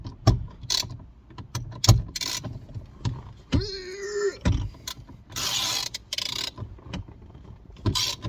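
21mm socket ratchet wrench undoing the steering wheel bolt on a Jaguar XF, a series of close metallic clicks and knocks with a short whirring ratchet burst in the middle, sparse and irregular.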